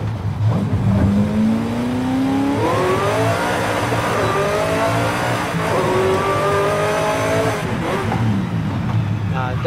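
Chevrolet Camaro Z28 engine in Forza Horizon 5 revving and climbing through gears in rising sweeps, loud and steady throughout, with someone talking over it.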